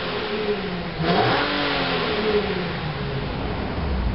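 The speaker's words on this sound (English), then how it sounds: "Listen to that rev." A 2008 Infiniti G37 sports coupe engine revs up sharply, rising in pitch and then settling back, heard close and loud over a steady engine drone.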